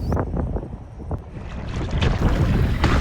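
Wind gusts buffet the microphone on the open River Cleddau from a kayak, a rough roaring rush with splashy water noise that swells toward the end.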